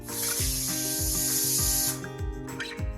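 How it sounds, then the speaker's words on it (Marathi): Pressure cooker whistling while cooking vegetable pulao for a Kolhapuri veg thali, a loud, steady high steam hiss lasting about two seconds over a rhythmic pulsing rattle, then cutting off into brief sputtering bursts. "आता कुकरला 2 शिट्ट्या करून घ्यायच्या आहेत"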